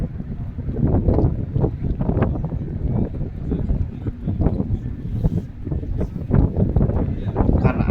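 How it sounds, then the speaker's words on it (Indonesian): Strong wind buffets the microphone outdoors in New York City, a loud, continuous gusting rumble with uneven surges that lasts throughout. "Karena anginnya makin kencang,"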